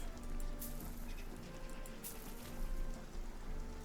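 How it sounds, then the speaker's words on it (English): Rain keeps falling in RuneScape: Dragonwilds, a soft unbroken wash of drops with a few brighter spatters standing out, heard alone without talk. "Already watered because of the rain."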